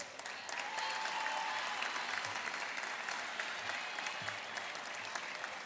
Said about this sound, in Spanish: Recibimos también con un fuerte aplauso a la Universidad Autónoma de Entre Ríos